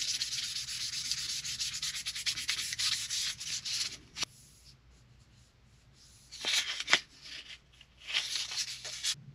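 Hand sanding of a wooden knife handle with 600 grit sandpaper: steady scratchy rubbing strokes at close range, pausing briefly midway and resuming in short bursts.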